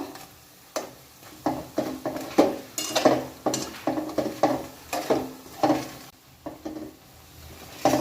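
Dahi vada fry in oil over a medium gas flame amid soft sizzling, while a utensil clinks and stirs in a steady, repeated rhythm close by.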